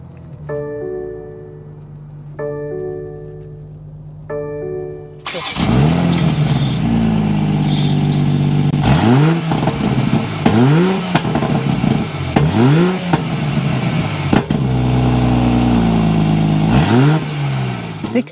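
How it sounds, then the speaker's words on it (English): A 2024 BMW 840i coupe with a twin-turbo inline-six fires up after a few chimes, then revs repeatedly in sharp rising sweeps, its loud exhaust note blipping and settling back to a steady idle between pulls. "start it up so you can hear that exhaust note"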